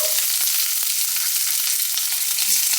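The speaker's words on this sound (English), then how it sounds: "heat your frying pan with your oil to, I would say, medium heat, and then you're just going to saute your green pepper" Green pepper sizzles steadily in oil in a frying pan over medium heat, with a few soft clicks of stirring, close by and with no talking.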